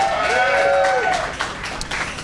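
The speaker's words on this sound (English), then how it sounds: "Can you all clap for him?" An audience at a Black Women's Pay Equity Day celebration claps for an alder. A dense, steady wash of applause with a few raised whooping voices carries on throughout.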